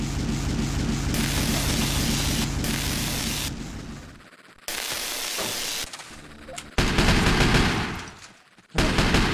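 Sustained machine gun fire in the top-down shooter Teleglitch, dense rattling bursts that stop and restart several times with brief quieter gaps, loud and close with no voices.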